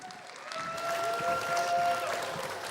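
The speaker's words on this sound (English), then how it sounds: "Let's give them a round of applause" Conference audience clapping as speakers are called up to the stage, a moderate, steady round of applause from a room of people, fairly distant and even, with some voices beneath.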